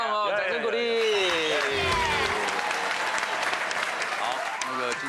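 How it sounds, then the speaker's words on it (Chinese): A studio audience at a Taiwanese TV variety talk show applauds steadily and loudly for the whole stretch, with voices and cheering mixed in over the clapping. "好棒哦，掌声鼓励。"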